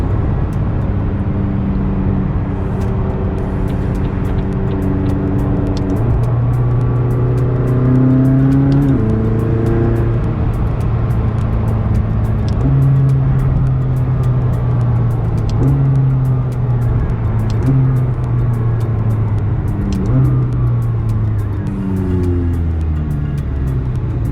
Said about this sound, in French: On ressent beaucoup le bruit de roulement de la route, le son de l'échappement derrière.